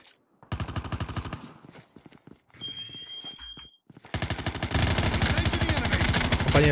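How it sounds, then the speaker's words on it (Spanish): Rapid bursts of gunfire in Call of Duty, loud and close, in two long stretches of repeated shots with a short pause between them and a faint electronic tone in the gap. "Hay gente por ahí disparando"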